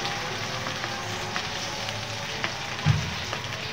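Small local shrimp sizzle as they hit hot oil with onions fried until browned. The frying is steady, dense and close, with a brief louder crackle near the end and no talk.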